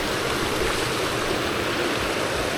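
A small hidden mountain stream rushes steadily nearby, a loud, continuous broad hiss of flowing water with no talk over it.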